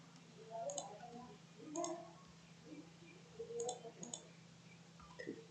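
Numbers are typed on a computer keyboard in a quiet room, with a few soft, scattered key clicks in small clusters over a low steady hum.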